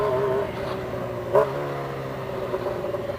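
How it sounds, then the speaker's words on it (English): A Kawasaki Ninja H2 motorcycle engine idles with a quick auto-blipper rev partway through, the throttle rising sharply then settling back to a steady rumble. "Gotta love that auto blipper, the sound that it makes."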